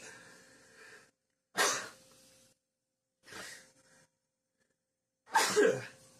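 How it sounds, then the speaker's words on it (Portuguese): Three sharp sneezes, each a sudden burst with a breathy tail, separated by short silences. "Todo dia eu dou um espirro nesse horário da manhã"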